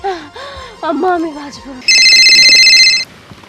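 A phone rings in a Bangla short-film drama scene, one loud bright electronic trill lasting about a second, right after a burst of close, emotional talking.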